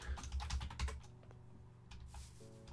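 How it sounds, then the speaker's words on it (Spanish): Rapid typing on a computer keyboard, a dense patter of keystrokes that thins out after the first second, with a low steady hum underneath and no voices. "Mucho tecleo, ¿no? Escucho yo."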